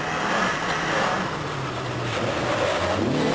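A Lancia Delta Integrale rally car runs hard on a tarmac stage, its engine a loud, steady growl whose pitch dips and climbs with gear changes, heard on its own without talk.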